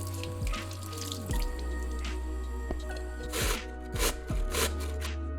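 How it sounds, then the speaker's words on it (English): Potatoes being washed and scrubbed under a running kitchen tap, a steady stream of water splashing in the sink with occasional louder swishes and squishy rubbing bursts. "we are going to wash and thoroughly scrub our potatoes"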